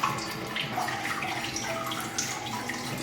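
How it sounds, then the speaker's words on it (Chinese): Gutted golden pompano rinsed under a running tap, a steady close splash and trickle of water over the fish with faint dripping throughout, no voices. "去了内脏之后呢，我们来清洗干净。"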